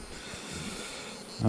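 A steady, close hum of honeybees buzzing around hive frames fills the moment, ending with a brief louder rustle or bump.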